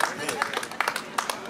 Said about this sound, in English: Somebody give him applause,